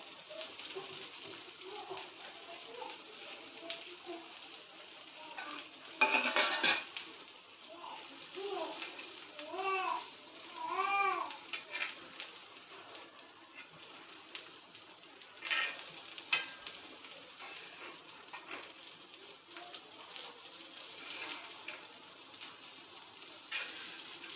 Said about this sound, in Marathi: आतलं सारण जे आहे ते तेलामध्ये परतलं गेलं पाहिजे थोडं